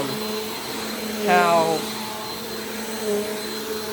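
A Bissell PowerForce Compact vacuum cleaner runs with a steady, fairly loud motor drone throughout, a brief rising whine partway through, and a person speaking over it.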